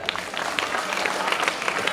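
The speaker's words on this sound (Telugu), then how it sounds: "2 చేతులతోటి చప్పట్లు కొట్టండి గట్టిగా." Students at a school annual day clapping hard with both hands, a dense, steady wash of applause from a large group filling the room without a break.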